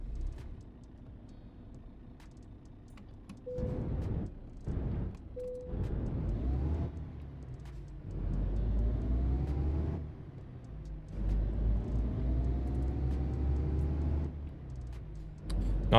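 Truck engine in the game Euro Truck Simulator 2, a low droning rumble that rises and falls with acceleration and gear changes, with short pauses between bursts and a rising engine tone.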